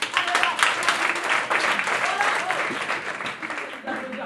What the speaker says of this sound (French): J'aimerais qu'on applaudisse Verbatim, vraiment.